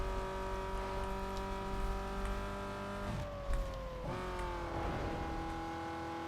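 A car in the racing video game Need for Speed Underground 2 roars along at full speed, its loud, steady engine note shifting pitch twice as it brakes and accelerates again, with no talking.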